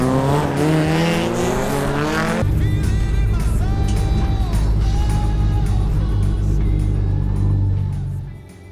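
A front-wheel-drive race car starts from a corner in the wet at Bathurst, its engine revving loudly and close, with a sharp shift in tone a couple of seconds in and then a sustained roaring drone that fades at the end.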